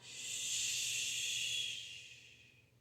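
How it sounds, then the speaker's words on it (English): One slow, deep exhale, breathy and hissing, swelling smoothly and then tapering off, close and soft during a calming exercise. "Just continuing that breath"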